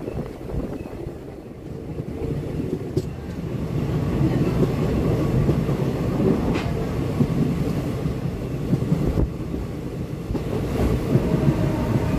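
A passenger train on the Belonia to Agartala line in Tripura rumbles steadily along the rails from inside the carriage, with a constant low roar and occasional faint clacks.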